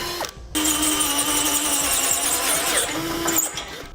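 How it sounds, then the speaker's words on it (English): Step drill bit enlarging a hole in a vehicle bumper, a steady whining power-drill hum after a short start, pausing briefly and resuming, close and unbroken by talk. "I'm using a step bit."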